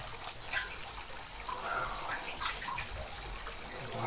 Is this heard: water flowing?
yes